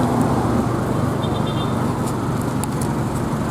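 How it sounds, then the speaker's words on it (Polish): A large tuk-tuk style vehicle rolls through Thai city traffic, its engine a steady low drone under a constant wash of road noise, with brief faint chirps and clicks in the background and no speech. "wsiedliśmy sobie do czegoś w rodzaju dużego tuktuka"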